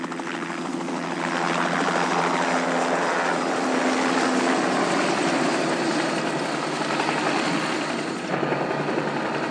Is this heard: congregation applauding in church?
no